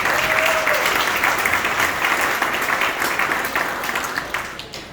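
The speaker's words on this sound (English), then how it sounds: "Let's give him a round of applause." An audience at a business talk breaks into dense, continuous applause that holds strong throughout and thins slightly at the end.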